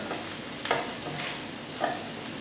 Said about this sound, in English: I'm going to add my button mushrooms right in there as well.